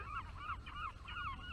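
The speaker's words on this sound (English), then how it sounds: "if you can hear the seagulls there, that'll give you a clue as to where we are" Seagulls calling on the shore of the Solent at Lepe in the New Forest, a repeated series of rising and falling cries, fairly loud and steady over low wind and shoreline rumble, with no talking.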